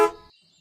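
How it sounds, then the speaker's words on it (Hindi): A short, bright cartoon vehicle horn gives one honk, close and loud, then cuts off into near silence. "हॉर्न बजा रही है"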